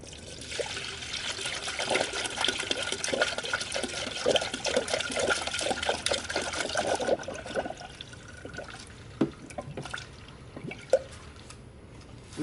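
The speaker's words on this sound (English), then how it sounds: "Now I'm going to go ahead and just fill up the coolant." Coolant poured into a car's cooling system after a radiator replacement, a steady close liquid pour and trickle that tapers into scattered drips and light clunks.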